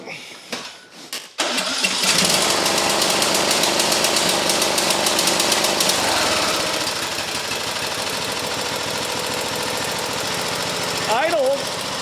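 A small engine running with its air filter removed, idling roughly and unevenly as if choked, with a loud sustained drone after a brief start and faint background noise.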